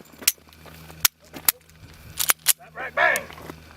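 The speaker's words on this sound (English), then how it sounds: "Okay, 4 rounds on pistol, 4 rounds." Pistol shots on a tactical shooting course, several sharp cracks spaced irregularly across the moment, followed by voices talking.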